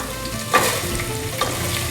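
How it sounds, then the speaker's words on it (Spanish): Rice grains sautéed with golden-browned garlic in a pan for Cuban congrí make a steady, close frying sizzle, with two brighter scraping stirs near the start and middle, and no voices. "Y lo voy a sofreír hasta que veamos que los granos están brillosos."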